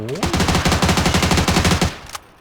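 Rapid automatic gunfire in the battle royale game PUBG, a dense burst of about twenty shots in a steady rhythm lasting two seconds, loud and close, ending with one sharp final crack.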